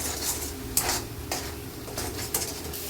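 Spices and salt fry in oil in a pan while a spoon stirs them, making a close, continuous sizzle broken by several sharp scrapes and clinks against the pan.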